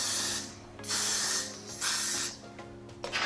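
Hair spray hisses from an aerosol can in several bursts of about half a second each, close and fairly loud, with short pauses between sprays.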